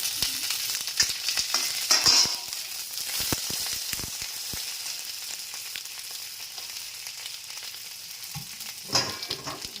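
Okra goes into a pan with potato and chilli and fries, a steady crackling sizzle with scattered clicks and stirring scrapes, close and continuous without any speech.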